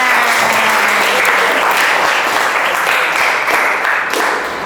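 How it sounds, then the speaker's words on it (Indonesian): A classroom of students applauds a classmate named Valen in a loud, steady round of clapping that holds strong before tapering slightly at the end. "Beri tepuk tangan untuk Valen"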